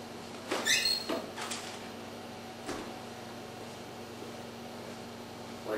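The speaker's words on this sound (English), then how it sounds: "Go to the freezer and grab an ice ball." A home freezer door is opened to take out an ice ball, giving a short squeaky creak and a soft thump. A faint steady appliance hum follows, with no talking.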